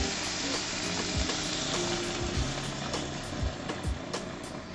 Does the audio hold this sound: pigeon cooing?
no